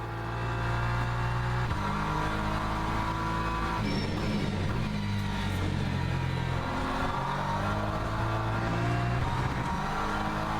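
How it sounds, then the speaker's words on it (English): Race car engine in the Le Mans Ultimate racing game, a loud steady drone with shifting engine harmonics and gear-change steps, heard alone without talk. "We can hear his engine now."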